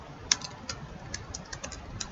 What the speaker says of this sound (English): But if I type like this